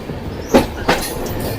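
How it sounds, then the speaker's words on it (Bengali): Rumbling of the Puri Kamakhya Express rolling into Cuttack railway station, two sharp wheel clacks over a steady close rail hum, with no voices. "আমাদের ট্রেন এখন ঢুকছে কটক রেলওয়ে স্টেশনে"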